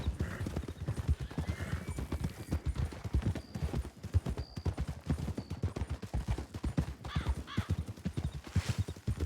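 Horses in a Wild West role-play video game, with rapid, close clip-clopping hooves throughout and several whinnies and neighs rising over the steady trotting rhythm.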